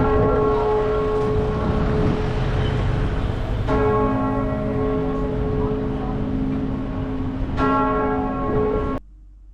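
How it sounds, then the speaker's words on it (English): Church bells toll loudly at St Paul's Cathedral in London, each stroke ringing out with a long sustained hum that overlaps the next, then the sound stops abruptly. "We were lucky enough to get there when the bells were tolling."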